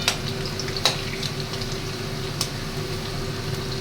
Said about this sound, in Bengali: দেখো আমার আলুটা অনেকটা ভাজা হয়ে এসছে